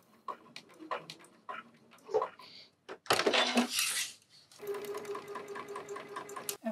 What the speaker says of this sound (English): Start at the beginning and do a little back stitch.